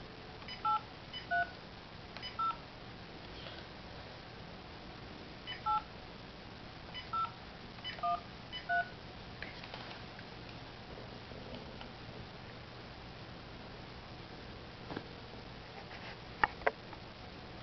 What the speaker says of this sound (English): Pick up your phone and give him a call.